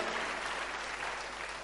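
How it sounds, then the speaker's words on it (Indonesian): Church congregation applauding warmly, a dense continuous patter of many hands clapping at moderate distance, with no voices over it. "Tepuk tangan yang paling meriah buat Allah kita"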